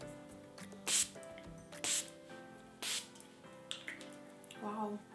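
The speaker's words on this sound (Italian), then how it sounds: "fisso il make up con uno spray." Makeup setting spray misted onto a face in short bursts, four or five brief hissing puffs spaced about a second apart, close and fairly loud over faint background tones.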